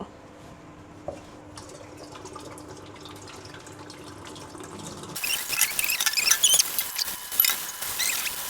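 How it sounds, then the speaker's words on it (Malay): Water runs into a kitchen sink as it is being cleared, a close, steady splashing and hiss that swells partway through after quieter clinks and rustles, with no talk. "Aku nak clearkan sinki sekejap."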